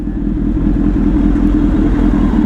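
Kawasaki Z900 superbike engine running steadily at close range, a continuous low rumbling drone with no speech.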